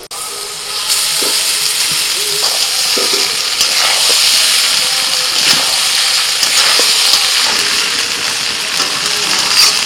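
Cooked rice hits a hot pan of fried carrots, beans, capsicum and green chillies for a Puja special meal, with a loud, continuous sizzle and repeated scraping and clinking of the spatula as it is stirred.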